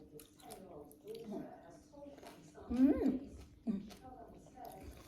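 Small green grapes with seeds are chewed up close, giving soft wet squishing and biting crunches, with a couple of louder chews, while someone talks between bites.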